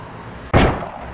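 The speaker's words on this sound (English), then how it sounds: "Just some guy setting off fireworks somewhere." A single firework goes off somewhere in a neighbourhood, one sharp loud bang followed by a brief rumbling decay, heard alone against faint background.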